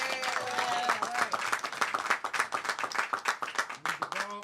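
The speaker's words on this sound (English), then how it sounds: "Can we please give them a round of applause?" An audience at a Pennsylvania bill-signing ceremony for a law banning hair discrimination claps for the lawmakers, a dense burst of hand claps that grows into distinct rhythmic slaps, with a few voices calling out beneath.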